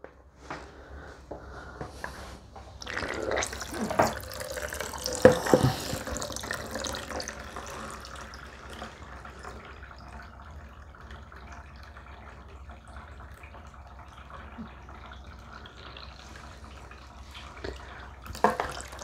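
Water trickles and splashes steadily from a small pump demonstration rig billed as a free-energy pump, with a louder surge early on before it settles into a continuous, fairly quiet flow.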